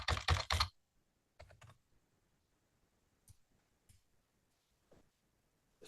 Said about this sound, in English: type that in down here.